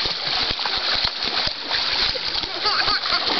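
Freestyle swimming in a pool, with continuous splashing and churning water close by, broken by rhythmic stroke slaps.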